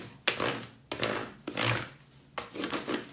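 Crayon rubbed over a textured surface in four long, rasping strokes, each starting with a sharp scrape then a gritty, steady scratch, close and alone.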